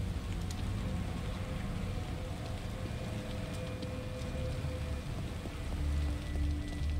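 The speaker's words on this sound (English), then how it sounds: "I like the raindrop effects on the lens." Steady patter of rain in The Evil Within, a soft continuous hiss of droplets with low rumbling ambience, moderately faint and unbroken, no voices.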